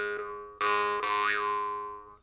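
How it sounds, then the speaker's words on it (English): A small brass jew's harp gives three close plucks, each a bright twanging tone with strong, clear harmonics that ring out and fade quickly. "So this one is quite small and neat, but has nice strong clear sound"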